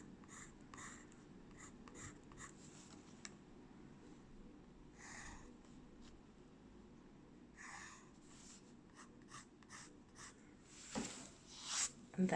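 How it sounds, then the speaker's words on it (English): Coloured pencil cross hatches on paper in steady, scratchy strokes with short pauses between runs of lines. The sound is close and fairly quiet, with no talking. "I've got cross hatching with different colours."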